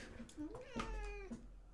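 A house cat meows close by in one drawn-out, rising and falling call, faint in level, with a person speaking around it.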